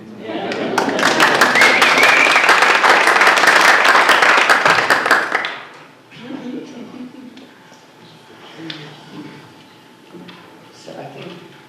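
An audience breaks into loud, dense applause after presentations. It holds steady for about five seconds, then fades into quieter room sounds and talk.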